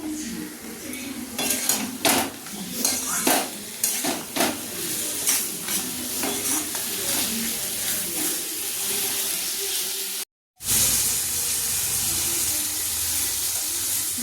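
Mutton stirred and seared in a pan with very little oil and few spices, metal spatula scraping and clanking steadily over a continuous close sizzle, with a brief dropout near the end before the frying resumes.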